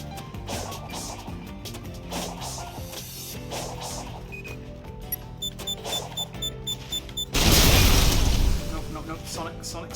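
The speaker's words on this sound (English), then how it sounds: "Away from the explosion." A loud burst in the Sonic Frontiers video game crashes in near the end, a short broadband blast that stands out over the ongoing music and game effects.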